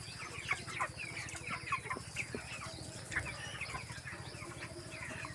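Broiler chickens on a poultry farm cluck and chirp in scattered bursts over a steady low mechanical hum, with many birds close by, moderately faint, and no talk.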